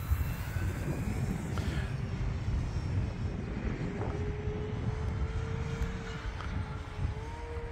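An E-flite T-28 1.2 m RC model airplane makes an inverted pass at full throttle over a church parking lot, its electric motor droning steadily with a rising whine as it goes by, fairly faint beneath a rumbling wind-like background.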